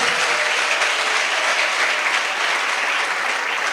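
A church congregation claps together in praise of Jesus, a dense, steady applause that carries evenly throughout.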